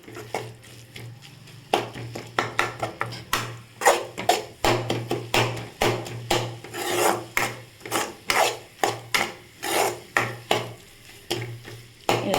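A spatula scrapes and stirs egg pasta around a pan as it sautés, giving a steady run of rhythmic rasping strokes, close and fairly loud, with no voices.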